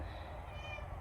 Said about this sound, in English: You guys hear this kitty at the door.